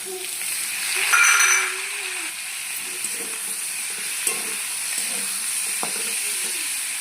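Onion, garlic and potato frying together in a pan, a soft continuous sizzle with light stirring scrapes, close and fairly quiet, with one brief louder hiss near the start.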